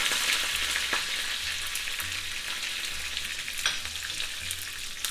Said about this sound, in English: When the oil is nice and hot, you need to put the curry leaves in the oil.